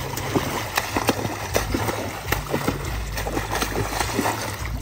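Water splashes onto a woman's forehead at a river in a series of irregular splashes and sloshes over steady flowing water, with faint voices nearby.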